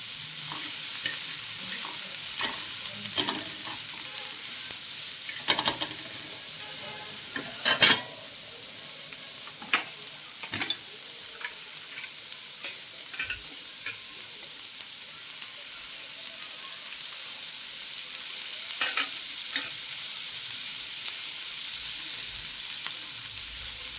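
Oil sizzles in a pan while egg bhurji is cooked, keeping up a constant crackling hiss. Scattered spatula taps and scrapes break through it at irregular moments, closer and sharper than the frying underneath.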